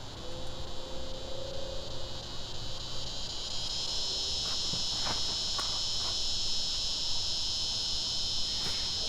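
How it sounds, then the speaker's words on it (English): A cicada buzzing in an urban backyard garden in the South, a continuous high, shrill drone that grows steadily louder, with faint rustles and taps nearby. "but it's a cicada."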